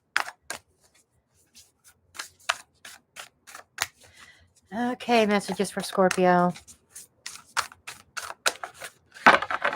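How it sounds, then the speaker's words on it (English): Tarot cards are shuffled by hand in quick, crisp riffles and taps that come in scattered bursts. A voice speaks briefly near the start and again in the middle. "And I'm so sorry about the noise of my shuffling."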